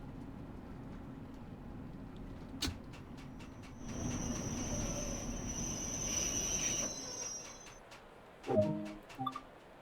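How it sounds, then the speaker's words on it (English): Train wheels squeal in a long, high metallic whine over a steady rumble of rolling stock as a Bakerloo Line train brakes in Train Sim World 2, ending with a few clanks. "bring the train to a halt"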